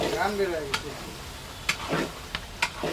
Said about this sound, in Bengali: রান্না হচ্ছে যমুনার চিংড়ি